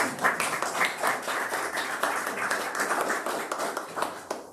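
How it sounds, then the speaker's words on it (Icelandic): Audience members at a seminar on old travel routes clap warmly for an arriving guest, a moderately loud, even patter of many hands lasting several seconds without talk. "við skulum bara klappa strax fyrir henni"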